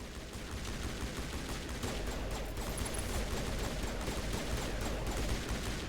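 Rapid gunfire from Geth troops and turrets in the sci-fi shooter Mass Effect, a dense, continuous crackle of shots at a steady level throughout.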